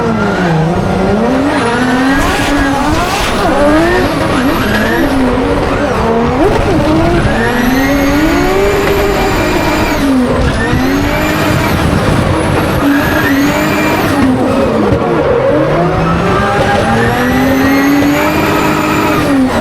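Drift cars battle in New Zealand, engines revving hard and rising and falling continuously with squealing tires throughout, loud and close with no talking.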